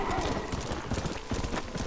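A horse galloping in a Western video game, rapid rhythmic hoofbeats close and steady, with a brief whinny-like tone over them.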